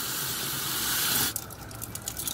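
Water gushes loudly through a strainer as tumbled root-vegetable pieces are rinsed, a steady rushing flow that cuts off into softer trickling and rattling.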